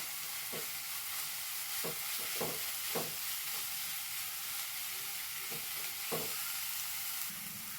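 Onion and crushed ginger-garlic sizzle in a pan under a constant frying hiss, with several distinct scraping stirs of a spatula spaced irregularly across the span and no talking.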